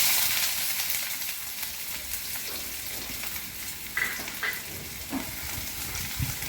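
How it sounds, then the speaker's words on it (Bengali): Chopped onions frying in pungent mustard oil in a home kitchen pan, alongside two dried red chillies, give a steady close sizzle and hiss with a few brief clinks and stirring knocks. "পেঁয়াজ কুচিগুলো ভেজে নেব।"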